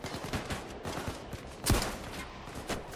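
Rapid bursts of gunfire from the video game Payday 2 on the Heat Street heist, a string of close, sharp shots with one louder blast midway, with no talking.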